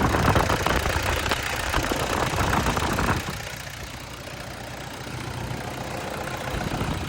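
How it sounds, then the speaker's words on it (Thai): A car engine idles steadily after its intake was cleaned and the EGR valve blocked off at around 130,000 km, a continuous mid-level rumble that drops slightly in loudness partway through and then holds even. "เครื่องยนต์เดินนิ่งๆกันเลยนะครับ"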